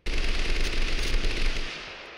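Minigun firing in the Totally Accurate Battlegrounds video game, a loud, rapid, unbroken burst of automatic fire lasting about a second and a half before tailing off into a fading echo.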